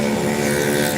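A loud vehicle with no exhaust passing on a street between St Julian's and Sliema, Malta, heard as a close, harsh engine roar filling the whole short moment.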